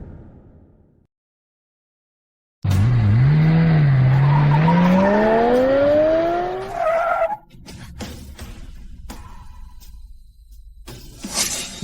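A car arrives with a loud, drawn-out tire skid and a rising engine whine close by, then settles into a lower rumble with a few scattered knocks.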